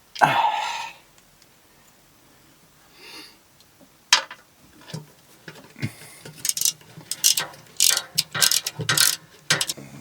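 Ratchet on oil pan bolts of a 2015 Toyota RAV4 during an oil pan gasket job, clicking in quick irregular bursts of close metallic ticks after a few isolated clacks, loud and alone without talk.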